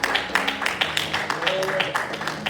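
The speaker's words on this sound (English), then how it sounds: "give Elder Mitchell a hand clap for that dynamic word" A church congregation claps in steady rhythmic unison after a sermon, with sharp evenly spaced hand claps and voices calling out over them.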